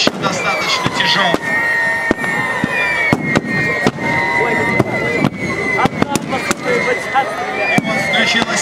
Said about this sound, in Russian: И вот включилась наша дальнобойная артиллерия.